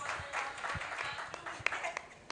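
At a film festival panel session, a seated audience gives a faint, distant round of applause with a soft, scattered patter of hands and a few sharper claps near the end.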